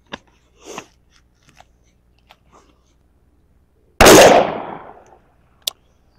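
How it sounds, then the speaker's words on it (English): A 300 Blackout pistol fires hollow-point-style target rounds at a range, one loud, sharp report with a decaying tail after a few faint clicks and handling noises, then a short sharp snap near the end. "so next up, 300 blackout pistol. And I have these weird hollow point-esque target rounds"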